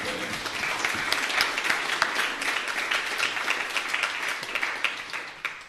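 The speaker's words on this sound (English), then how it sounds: "I think there's a round of applause in there, surely, isn't there?" An audience at a live recording of an arts-industry talk show gives a round of applause, dense and sustained clapping filling the room at a moderate distance for several seconds without pause.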